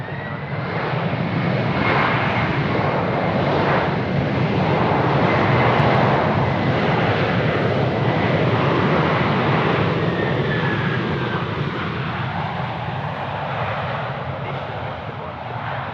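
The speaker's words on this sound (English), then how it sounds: "It's the A321 Neo coming in, and it's coming in from Auckland." An All Blacks–liveried Airbus A321neo arriving from Auckland lands on runway 34 right at Sydney Airport, its engines roaring loud and close for the whole stretch and easing slightly toward the end.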